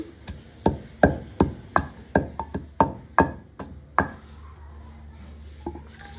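Garlic and roasted sesame seeds pounded in a mortar for a Telugu tomato chutney, a dozen sharp, hollow thuds in an uneven rhythm that slows and then stops, close and fairly quiet with no talking.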